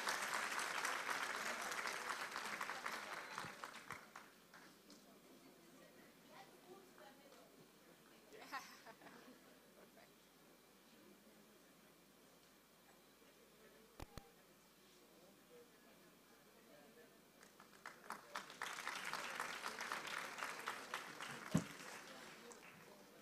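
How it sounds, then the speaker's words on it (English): Applause from the audience at a Deep Learning Indaba conference swells at the start, gives way to a long quiet stretch of room noise and faint voices, then rises again into a second burst of clapping. "let's give them a one round of applause"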